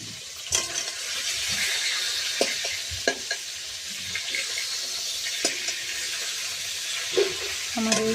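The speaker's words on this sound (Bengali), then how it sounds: "মাছগুলো দিয়ে ভালো করে এপিট ওপিট হালকা করে ভেজে নেব।" Pieces of hilsa fish fry lightly in hot oil, turned side to side, giving a continuous close sizzle broken by sharp clicks and taps of a utensil in the pan.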